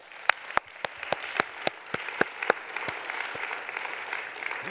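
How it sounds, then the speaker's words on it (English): Scattered audience applause at a conference session on data collaboration, starting with a few sharp, distinct claps and thickening into a light, steady patter that stays fairly thin and moderate. "So first, we'll start with a round of applause."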